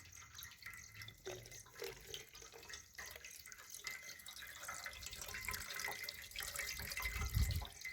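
Water jets spurt from holes at different heights in a container, making a steady splashing, trickling stream that pours and patters continuously and swells louder toward the end.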